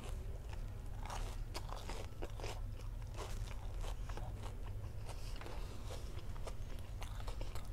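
Close, crisp crunching bites and chewing on a fried sausage coated in cheese, with a crunchy fried coating, an irregular series of crackly snaps and mouth sounds at low volume, no speech.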